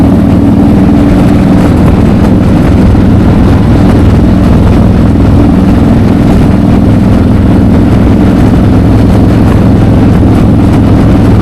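A Harley-Davidson Road Glide CVO ST with a 133-cubic-inch, 180 hp engine roars hard under acceleration in a second-gear pull, a loud, continuous, close engine drone with rushing wind.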